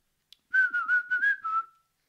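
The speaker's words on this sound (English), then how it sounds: "So whistling." A person whistles a short melodic phrase of about six connected notes, clear and close, preceded by a brief click, with no talking.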